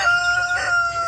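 Farm hens, including newly rehomed battery hens, cluck and crow loudly and close by in a short, busy burst of bird calls with no talking.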